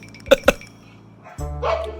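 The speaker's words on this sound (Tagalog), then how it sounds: "aso pa rin yan" Two quick, sharp dog barks close together, followed by a short pause and then a low rumbling background noise.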